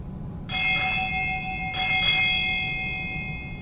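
A ship's bell rings four times in two quick pairs at a US Navy change of command ceremony at Naval Hospital Lemoore, with clear metallic strikes over a low room murmur and each pair ringing on after it is struck.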